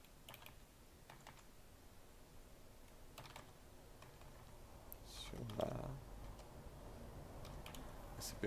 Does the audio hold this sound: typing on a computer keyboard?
yes